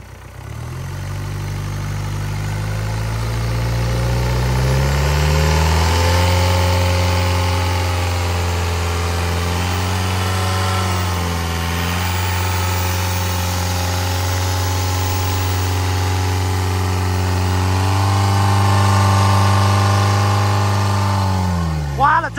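A stock Isuzu 4KH1 diesel engine idles smoothly and steadily up close, its low, even drone rising and falling slightly in pitch, with no voices over it.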